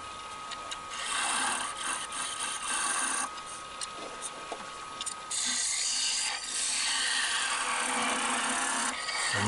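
Sandpaper rubbing against a spinning woodturning piece on a lathe, an onion-shaped form being refined, gives a steady broadband hiss that swells and dips as the abrasive is pressed on and lifted off, with no talking.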